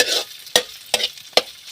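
Food hits hot cooking oil in a pan, a steady sizzle broken by three sharp stirring scrapes spaced about every half second, loud and close.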